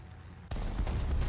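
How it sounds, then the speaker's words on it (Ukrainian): A tank in the War Thunder video game lets out a sudden, loud, close blast after a quiet moment, followed by a sustained booming rumble; no voices. "Тут чую танк."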